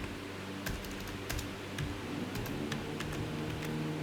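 Fingers type steadily on a computer keyboard, producing a run of light, close clicks with brief pauses and irregular rhythm over a faint background hum.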